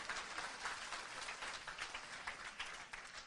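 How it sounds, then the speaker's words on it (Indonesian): Church congregation clapping during a sermon, a faint, steady wash of applause lasting a few seconds with no voices over it. "Berikan tepuk tangan yang meriah buat Tuhan"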